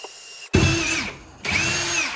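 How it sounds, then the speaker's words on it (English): A power drill whines in two bursts into a drywall wall, the motor revving up, biting in with a slight pitch drop, pausing briefly, then spinning again, close and loud. "So we're just gonna go ahead and do a drill."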